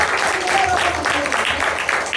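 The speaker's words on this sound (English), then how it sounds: "So can we give a big round of applause?" Audience applause during a laughter yoga session at a trainer's camp in Mumbai: dense, steady clapping that fills the whole stretch at a fairly loud level, with some voices mixed in.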